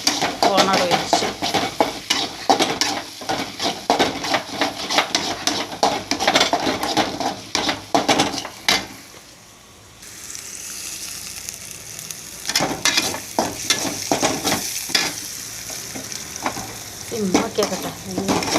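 Chopped ginger fries loudly in oil in a pan, stirred constantly with rapid metal scraping and clatter. Sizzle rises again after a brief quieter pause, close by with little talk.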